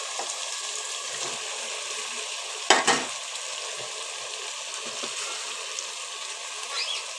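Vegetables and tomato fry in oil in a pan for vegetable biryani, giving a steady close sizzle with one brief clattering stir partway through.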